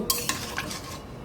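A spoon stirs chicken curry with jackfruit seeds in a pot, giving a few quick scraping clinks followed by a soft bubbling simmer, close and brief.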